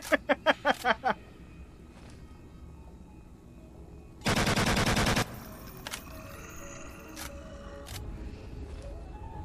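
Gunfire in the video game The Forgotten Ones: a quick burst of several shots at the start, then a sustained rapid volley of automatic fire mid-clip, set over a low game ambience and scattered clicks.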